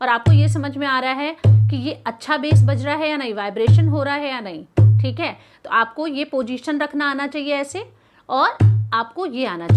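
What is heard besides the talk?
No distinct noise like a dog, phone or traffic.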